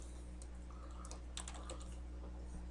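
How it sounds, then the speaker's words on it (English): Quiet keystrokes tap on a computer keyboard while text is entered in PartWorks2D software, a few soft irregular clicks over a steady low electrical hum. "then you can start typing in here"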